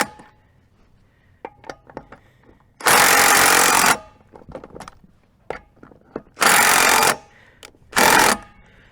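A DeWalt impact wrench on a cheap 18V battery hammers lug nuts loose in three loud bursts, each about a second long, separated by quieter clicks and handling noise.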